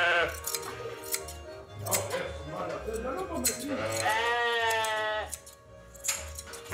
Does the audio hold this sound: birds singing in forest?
no